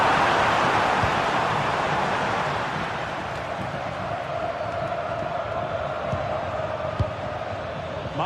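Stadium crowd in a football video game roaring in a sustained, steady swell of cheering noise, fairly loud and continuous, easing slightly after the first couple of seconds.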